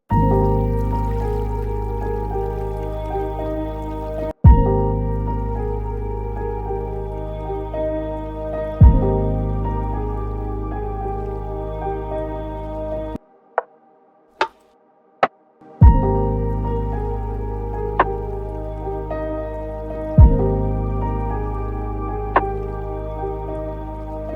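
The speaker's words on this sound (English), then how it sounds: "we need some water sounds because the original track does have beach sounds in it" Water sound effects layered into a remake of Kingdom Hearts main menu music for beach ambience: soft drips and trickles sit under steady tonal music, with brief pauses and a few sharp accents.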